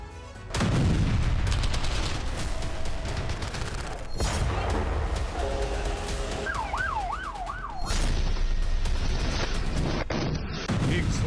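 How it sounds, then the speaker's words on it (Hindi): A loud blast and heavy booming rumble dominate, with a wailing siren rising and falling in the middle and continuous chaotic noise throughout. "एक जोरदार विस्फोट और फिर मचने लगी चीख पुकार"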